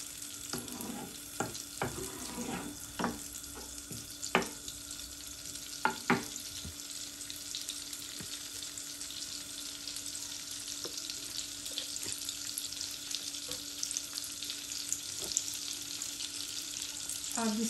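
Butter and oil heat in a pan for a dhaba-style toor dal tadka, giving a steady close sizzle with scattered utensil clicks and stirring knocks, mostly in the first half, and no talking.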